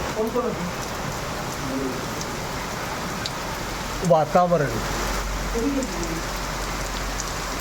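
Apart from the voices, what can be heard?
rain drizzling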